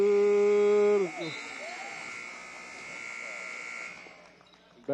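A loud buzzer sounds in a gym as a high school varsity girls basketball game reaches the end of a period, holding steady for about a second before cutting off, followed by crowd noise and a commentator talking.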